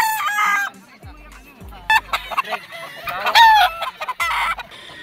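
A sweater gamefowl rooster at a game farm crows repeatedly in long harmonic calls, with other roosters crowing and clucking nearby and in the distance, with no talk over it.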